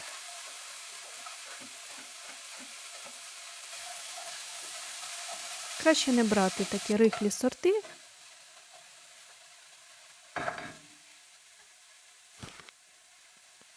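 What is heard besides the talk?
frying onion, garlic and apples in pan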